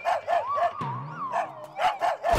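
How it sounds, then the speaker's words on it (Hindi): A dog barks in quick, close, loud yaps, about six sharp barks with a short whining pause in the middle, heard alone. "कुत्ता।"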